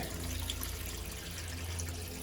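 Water drains steadily from the plugs on an above-ground pool pump, a continuous low splashing trickle that stays even and close throughout with no talking.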